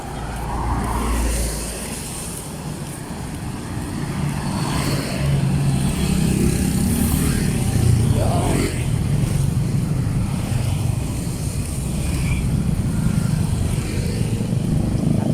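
Vehicles pass continuously on a nearby road, making a loud rumbling whoosh that swells and fades as each one goes by, with no talking heard.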